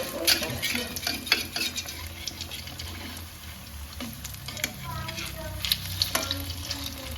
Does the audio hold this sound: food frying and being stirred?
yes